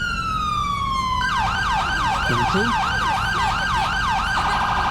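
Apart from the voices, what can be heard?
police vehicle siren in GTA V LSPDFR video game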